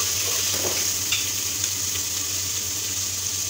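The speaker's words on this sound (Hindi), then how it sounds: "इसको आपने थोड़ा सा भूनना है" Ginger and garlic fry with homemade masala in a hot pan, giving a steady, close, loud sizzle that runs unbroken throughout with no talking.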